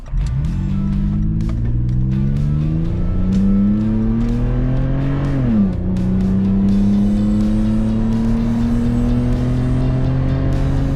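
Toyota 4Runner fitted with a Magnaflow Overland exhaust accelerating hard, a loud continuous engine roar rising in pitch through the gears with a brief drop at a shift, heard from inside with no talking.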